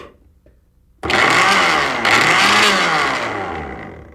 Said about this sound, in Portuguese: se eu ligar esse liquidificador